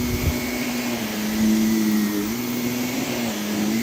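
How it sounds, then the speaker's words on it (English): Vacuum cleaner running steadily over a soiled customer rug, a constant loud motor whine and airflow roar with no talking, level swelling slightly midway. "So this is the other one I'm going to be vacuuming."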